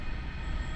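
A train pulls out of East Ringwood station bound for Lilydale, giving a steady, continuous rumble of rolling wagons with a faint high whine above it, close and fairly loud, with no voices.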